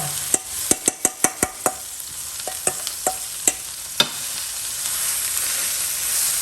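Field crab paste stir-roasting in a pan, a bright steady sizzle punctuated by a rapid run of sharp metallic spatula clicks against the pan, then continuous frying alone.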